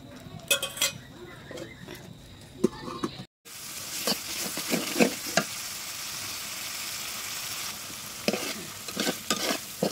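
Prawns cooking in a spiced masala under a lid, giving a steady close sizzle with a few brief stirring scrapes and clinks. The sound cuts out for a moment, then the frying returns louder and carries on to the end.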